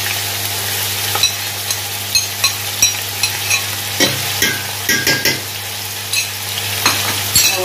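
Finely chopped onions sizzle with chicken in a handi, a steady close frying hiss broken by frequent scraping and clinking stirring strokes in an irregular rhythm, with no one talking.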